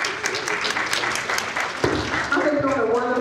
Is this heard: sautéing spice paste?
no